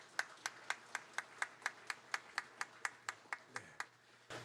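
A church congregation claps in unison during a Sunday service, about fifteen even, steady claps at a brisk regular pace, fairly close and moderately loud, ending abruptly.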